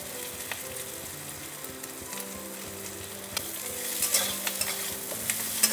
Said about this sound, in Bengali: এবার আমি হিটটা মিডিয়াম টু লো করলাম এভাবে নেড়ে ছেড়ে নিতে হবে